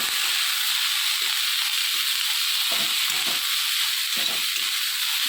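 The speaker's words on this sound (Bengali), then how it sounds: "এখানে যে সবজিগুলো ধুয়ে রেখেছি কেটে আমি সবজিগুলো দিয়ে দিলাম দিয়ে ভালো করে আমি এটা নেড়ে নেবো" Mixed vegetables with turmeric fry in a pan with a steady, dense sizzling hiss throughout, broken by soft intermittent stirring scrapes.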